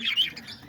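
Parakeets and lovebirds kept in an aviary chirp and squawk, with a couple of short, shrill calls close by over faint background noise.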